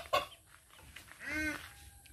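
A couple of short chicken clucks close by, a sharp one at the start and a drawn-out squawk later, with quiet ambience between.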